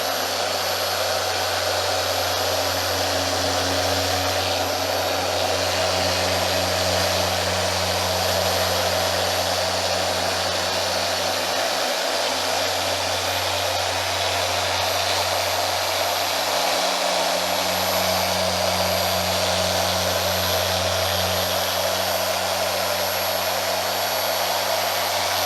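A Griot's Garage 3-inch polisher runs steadily on car paint, a loud continuous motor whine with a low hum that dips briefly now and then, with no talk.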